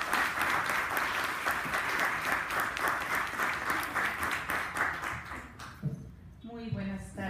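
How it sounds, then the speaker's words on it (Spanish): An audience at a cultural presentation in Xalapa applauds in a dense, steady wash of clapping that fades after several seconds, and then a person begins speaking. "Gracias, un aplauso, por favor."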